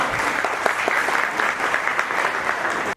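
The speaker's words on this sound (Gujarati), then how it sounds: "તાળીઓથી વધાવો." An audience at a community gathering of the Leuva Patidar Samaj claps to welcome an arriving guest, sustained crowd applause at close range that stops abruptly at the end.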